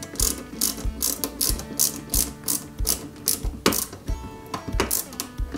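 Screw being driven into a Porsche 917KH scale model, a close series of quick ratcheting clicks in an uneven rhythm, with no talk.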